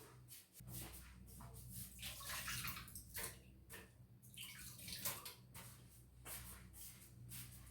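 Hands being washed under a running tap, a quiet, steady stream of water with splashing and shifting as the hands move through it, with no talking.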